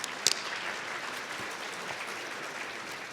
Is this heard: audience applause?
yes